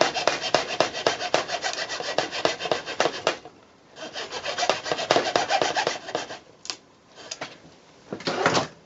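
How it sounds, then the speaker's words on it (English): Hand saw cutting through a plastic clamp into the adhesive beneath it on a carbon part, producing rapid rasping back-and-forth strokes close by, in two long bursts with short pauses and a few brief strokes at the end. "You just want to go into the adhesive below the plastic clamp. So you saw through like this,"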